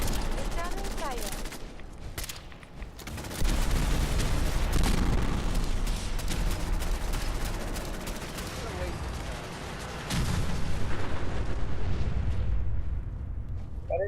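Returning gunfire in the video game Fallout 4, dense continuous volleys of shots and booms layered over one another throughout, loud and close, with a voice talking over the shooting.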